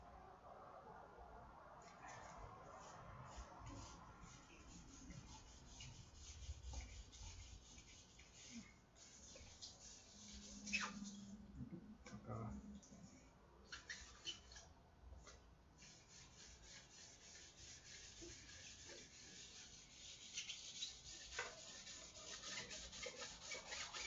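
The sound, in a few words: sanding guitar varnish with 10,000 grit sandpaper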